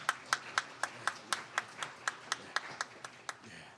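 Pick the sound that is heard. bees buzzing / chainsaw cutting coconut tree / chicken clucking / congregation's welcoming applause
congregation's welcoming applause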